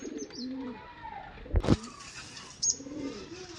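An old Kamagar pigeon pair coos in soft, rolling calls, with a sharp clatter or flap midway and a brief high chirp later, heard close with no talk.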